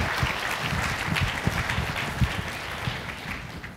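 An audience applauds to welcome speaker Rudolph Tanzi at an IDEAS Boston talk, dense steady clapping from a full room, sustained and fading slightly at the end.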